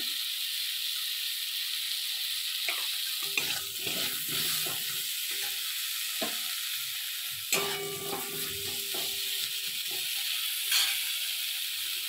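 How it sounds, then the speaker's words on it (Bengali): Brinjal fries in oil in a pan with a steady hiss and sizzle, broken by several scraping stirs of a spatula. "দিয়ে ভালো করে বেগুনটা আমি নেড়ে নেব।"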